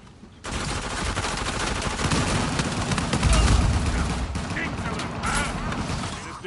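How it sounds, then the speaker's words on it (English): Sustained AK rifle blind fire in the video game Uncharted 4, a loud, dense stream of automatic shots with heavy booming low end that swells toward the middle. Voices talk over the shooting. "Blind fire AK is real."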